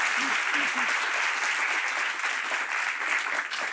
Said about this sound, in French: Ça s'applaudit, alors oui, bien sûr.